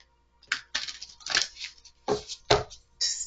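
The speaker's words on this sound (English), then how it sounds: "I'm going to shuffle real quick" Several quick papery riffles of tarot cards being shuffled, in short bursts with brief pauses between, close and fairly loud.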